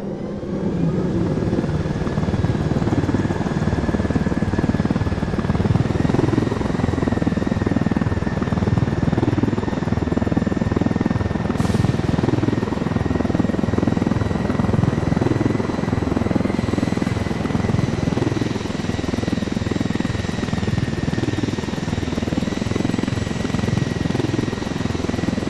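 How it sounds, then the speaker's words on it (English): A helicopter flies in Ghost Recon Wildlands with a loud, continuous rotor thrum and engine whine that holds steady throughout, a brief high swish partway through, and no talking. "So I think we'll take a chopper."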